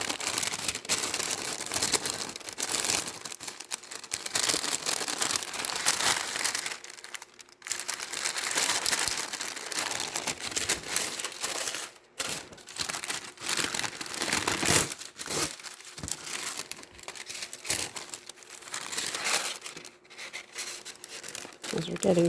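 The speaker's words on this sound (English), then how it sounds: "This is just parchment paper." Parchment paper crumples and crinkles close by in continuous bursts with brief pauses, while someone talks over it.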